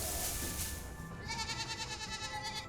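Goats bleat in a barn, a quavering wavering call that rises out of low background noise, fairly faint and somewhat distant.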